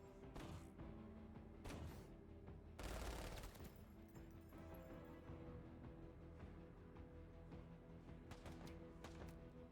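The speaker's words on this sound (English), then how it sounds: "Maybe we'll even throw in a strafing run." Distant gunfire and a heavy impact burst from a missile strike and strafing run in the video game Menace, faint and rumbling, with scattered shots and mechanical clatter spread across the stretch.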